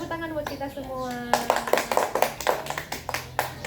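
Children clap their hands in a classroom, a burst of rhythmic group clapping that follows a teacher's voice speaking, then continues steadily and fairly loud.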